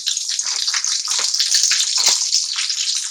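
Breaded chicken pieces for a zinger burger sizzle steadily in hot oil, a loud, continuous hiss and crackle with no talking.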